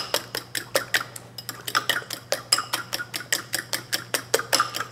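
Eggs beaten briskly with a fork in a bowl for a French omelette, with a little salt added: rapid, even clinks of metal tines against the bowl, loud and close, with no talking.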